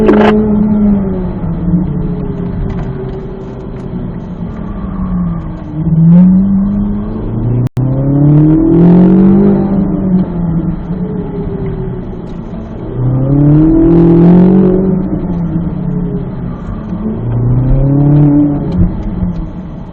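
A Corvette Z06 engine revs through gears on an autocross course, rising and falling in repeated surges of acceleration, loud and close from inside the car, with no talking.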